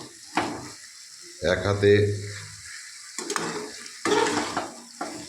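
Chicken pieces being stirred and fried for kosha in a pan, with bursts of loud sizzling and scraping as the meat is turned, broken by pauses; a person talks between the stirring.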